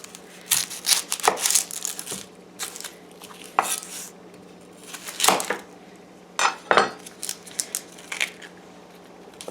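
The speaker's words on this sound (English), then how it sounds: "Just get the onions ready and chopped." Onions being chopped with a knife on a cutting board while making mutter paneer, sharp, irregular close-up chops in short bursts with clinks between them and quiet pauses.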